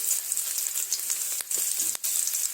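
Chopped garlic sizzles in oil left from frying capsicum, a steady bright hiss with a couple of brief dips, close and unbroken, no talk.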